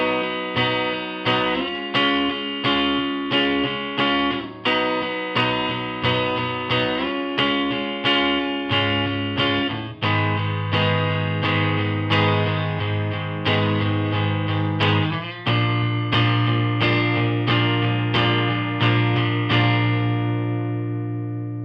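Electric guitar strumming the pre-chorus chords of a Northern Soul song, a steady repeated rhythmic pattern of full chords ringing with effects, loud and close, played alone.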